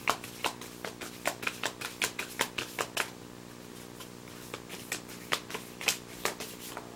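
Tarot cards are shuffled by hand in close, crisp, rhythmic riffles and taps. The strokes come quickly at first, then slow and space out, with no voices over them.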